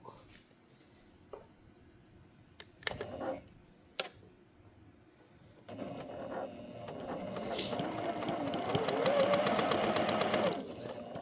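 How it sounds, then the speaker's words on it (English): A sewing machine stitches a quilt in a home studio, starting after some handling knocks and running steadily for about five seconds with a rapid mechanical rhythm, close and moderately loud. "Now we're going to sew on both sides of this line."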